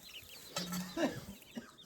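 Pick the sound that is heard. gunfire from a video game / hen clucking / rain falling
hen clucking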